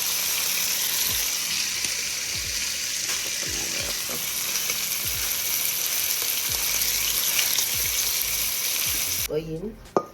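Seasoning sizzles and fries in a pot while brown stew beef is being made, a continuous close crackle with occasional stirring scrapes and clinks, ending in a brief clatter.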